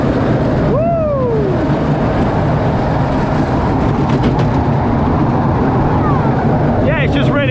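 A roller coaster train runs along its track at Parc Astérix, a loud continuous rumble and roar nearby with screeching wheel squeals rising over it and crowd noise mixed in.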